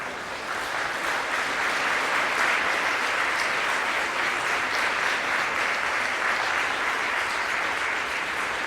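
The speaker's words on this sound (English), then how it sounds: "Please could you turn to the people who have accompanied you today and give them a round of applause." University of Manchester graduates applaud the guests who accompanied them at a graduation ceremony in a large hall, a long, even roar of clapping from a big crowd, sustained without a break.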